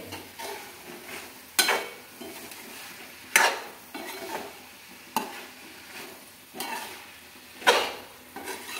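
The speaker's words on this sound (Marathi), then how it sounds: "आता याच्यातच आपल्याला 5 मिनिटं चांगले वांगी मसाल्यातच भाजायचे" Eggplant pieces are stirred and roasted in a spice masala in a pan, with a faint steady sizzle broken by a regular series of scraping spoon strokes every second or two.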